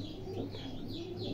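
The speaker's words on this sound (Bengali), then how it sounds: "দেখেন ভিউয়ার্স কবুতরগুলোর কোয়ালিটি মাশাল্লাহ দেখেন।" Racing pigeons at a breeder's loft coo softly and steadily, with low rolling coos and a few faint chirps close by, and no one talking.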